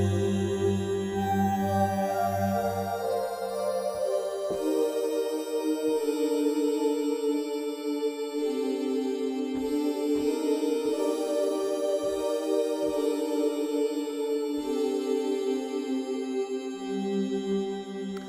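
A Rob Papen Blue 3 software synthesizer sounds its Mirror to Mirror Pad preset, with sustained layered pad chords that shift and swell steadily, bright shimmering upper tones over a changing low bass, played alone without speech.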